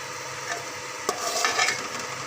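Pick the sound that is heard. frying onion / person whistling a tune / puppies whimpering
frying onion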